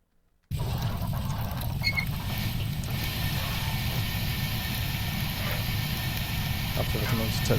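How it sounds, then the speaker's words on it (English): A steam train in Train Simulator 2021 on the North Somerset Railway starts up after a brief silence, with a steady loud chuffing, hissing mechanical rumble and occasional creaks holding constant throughout. "I'll turn the game sound up a bit whilst we depart"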